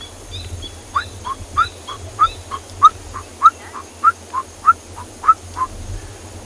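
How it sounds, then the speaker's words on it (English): A coqui francolin calls in the South African bush during an afternoon safari, a rhythmic series of about a dozen sharp, evenly spaced two-note whistles, moderately close and clear over low rumbling background noise. "you can hear another francolin species, and that is the coqui francolin"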